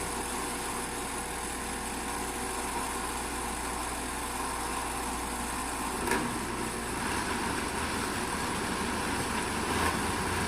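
A kitchen blender purees roasted cauliflower soup on the blend setting, a steady, loud whirring drone throughout with only slight swells in intensity.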